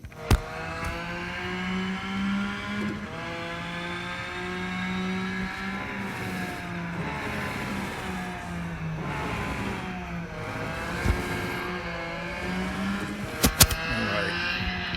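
A race car engine in Real Racing 3 drones steadily as it drives, its pitch rising and falling through gear changes and turns, with a few sharp clicks near the end.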